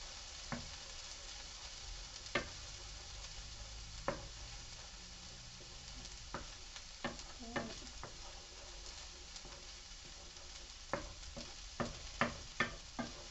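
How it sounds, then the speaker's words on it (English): Beaten egg stirred in a hot pan while it scrambles for Asian fried rice, a steady sizzle broken by scattered scraping taps of the utensil that come in quick clusters toward the end. "So I'm going to pour my egg in one side and just start stirring it as it cooks."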